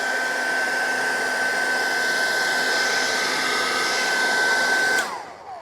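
A heat gun or hair-dryer-style blower heats a Tesla Model 3 logo to soften the glue behind it, a loud, steady whooshing drone with a faint whine that cuts off near the end.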